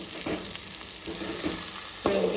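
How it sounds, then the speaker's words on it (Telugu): Bitter gourd masala curry sizzles and fries in a pan while a spoon stirs it, with scraping strokes at intervals and a louder stir near the end, close and steady. "కర్రీ మధ్య మధ్యలో కలిదిప్పుకుంటూ బాగా మగ్గించుకోవాలి"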